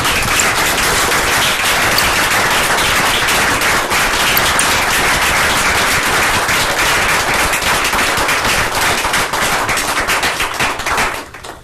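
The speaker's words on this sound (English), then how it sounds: "I want everybody to join me in a big round of applause for Sherry" Loud, dense applause from a council meeting audience honouring Sherry, a town employee, in Abingdon, continuous rapid clapping close to the recorder that tapers off at the very end.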